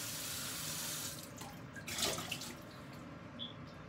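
Tap water runs into a kitchen container to moisten it while coconut májarete is being made, a steady close splashing stream with brief clinks of the container.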